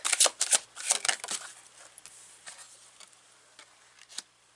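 Mystical Moments tarot cards are shuffled in quick riffling bursts, crisp and close at first, then thinning into softer, sparse flicks and taps with no talk.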